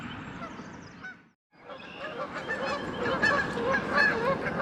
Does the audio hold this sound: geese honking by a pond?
yes